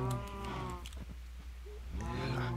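Minecraft cows moo twice, drawn-out low calls close by, one at the start and another near the end, with soft game ambience between.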